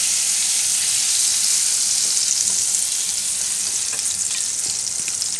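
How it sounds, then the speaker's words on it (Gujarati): Butter and oil sizzle in a kadai over a gas flame, a dense, steady hiss of frying that holds loud and unbroken, with faint crackles scattered through it. "આમાં આપણે આ માખણ નાખી દેવાનું અને થોડુંક એમાં તેલ નાખીશું"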